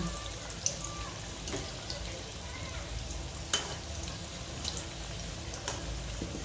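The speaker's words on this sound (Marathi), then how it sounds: "जास्त न तेल घालता तळायच्या आहेत ह्या वड्या आपल्या" Stuffed vadi shallow-frying in a little oil over low heat, a soft steady sizzle with a few faint clicks and pops.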